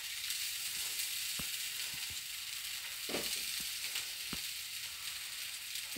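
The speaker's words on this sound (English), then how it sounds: "So in this hot frying pan, I'm adding the croquettes here, which is rolled in breadcrumbs." Breadcrumb-rolled vegetarian croquettes frying in a hot pan make a steady soft sizzle, broken by a few sharp clicks and knocks of utensils against the pan.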